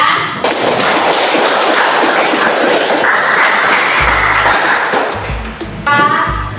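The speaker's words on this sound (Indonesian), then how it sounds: "Kita beri tepuk tangan untuk kelompok 3." Loud classroom applause for the third student group, a dense, continuous burst of clapping from many hands with a few low thumps, followed by a brief voice near the end.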